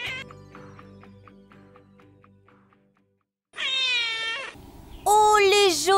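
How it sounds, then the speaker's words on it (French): Domestic cats meowing: a few drawn-out, rising and falling meows come in the second half, loud and close, after a quieter musical passage, with no talk over them. "C'est le chat."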